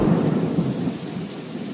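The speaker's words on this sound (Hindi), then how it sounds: "अचानक बारिश होने लगती है।" Heavy rain and rumbling thunder in a Hindi cartoon, a sudden downpour by a riverbank as birds sit at the water's edge; a steady, dense low roar that holds throughout without any talking.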